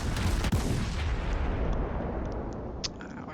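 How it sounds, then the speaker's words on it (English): Warship broadside of high-explosive shells in World of Warships, a loud heavy booming salvo that rolls and rumbles away over a few seconds, with a faint distant crack near the end. "So I put a broadside again of high explosive in, change the angle of my own ship."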